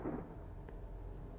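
In the horror game Beside Myself, lightning strikes as a soft, low rumble of thunder that starts strongest and fades to a dull, distant roll, faint and alone.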